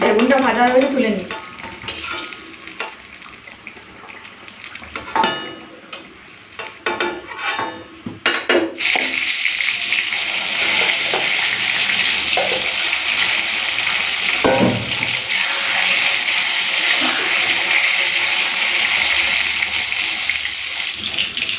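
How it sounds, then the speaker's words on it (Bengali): Eggplant frying in oil in a home kitchen: stirring and utensil clatter at first, with a brief voice at the start, then a loud, continuous close sizzle that fills the second half. "তো এখন বেগুনটা ভেজে নেবো।"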